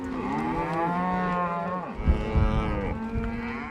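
Cattle on a Montana ranch cattle drive moo loudly and close by, one long drawn-out bellow followed by another lower, rougher call, with no talking.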